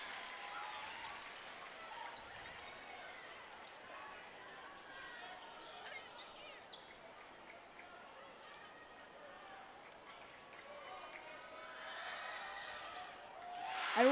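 A steady roar of home fans fills a high school varsity boys basketball gym as Frederick plays at Mead, jeering a free throw shooter. The sustained crowd noise swells near the end, with voices mixed through it.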